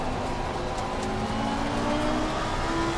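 A race car engine in Assetto Corsa Competizione droning at steady high revs with rising harmonic pitch, loud and continuous, heard alone without speech.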